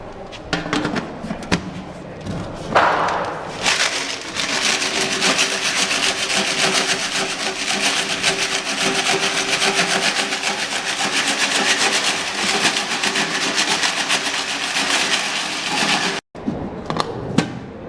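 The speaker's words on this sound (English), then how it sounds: "We will cover it with lid and we will sieve it." Road aggregate sample shaken in a covered 1.7 mm sieve gives a continuous gritty rattling and rubbing, loud and steady for about thirteen seconds before stopping abruptly, with a few brief scrapes before and after.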